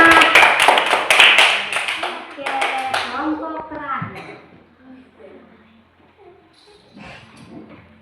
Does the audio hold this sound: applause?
yes